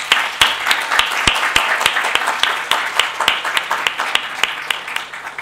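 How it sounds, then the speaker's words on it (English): Applause from an audience at a summit held in a library space, honoring two speakers: dense clapping with a few close, sharp individual claps punctuating a steady roar, sustained throughout. "But let's give another round of applause to our first two speakers."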